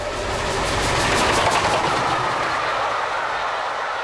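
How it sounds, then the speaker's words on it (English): The West Country class steam locomotive 34067 Tangmere runs past in a loud, steady rush of rail and engine noise with a rhythmic clatter, heard alone without voices. "Her place was taken by the West Country class locomotive 34067, Tangmere."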